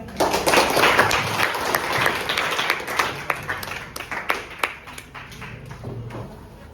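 A classroom of students applauds, with dense clapping that starts right away, then thins into scattered individual claps and fades over several seconds, fairly close and loud.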